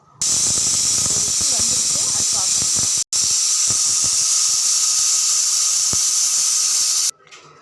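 A pressure cooker's loud, sustained high-pitched steam whistle hissing continuously, briefly cutting out once, then stopping abruptly near the end.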